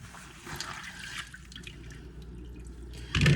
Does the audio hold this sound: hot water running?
yes